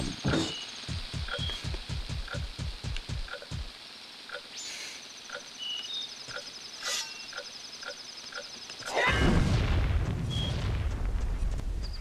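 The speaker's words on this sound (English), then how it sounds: "Time to blow it up with big bombs." Big bombs go off in a Zelda Ocarina of Time/Majora's Mask randomizer game: a run of rapid low thumps early on, then a loud, sustained, rumbling blast near the end over chiming game sounds.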